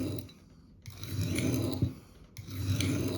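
An old whetstone rasps as a knife blade is drawn across it in slow repeated strokes, two longer scraping passes separated by a brief pause, close and steady with no talking.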